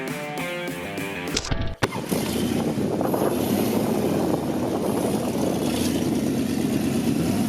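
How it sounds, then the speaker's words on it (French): A brief tonal passage cuts off, then a car engine roars steadily and loudly, a dense continuous growl holding at high revs. "Ce moteur n'a pas qu'un beau bruit, il chante."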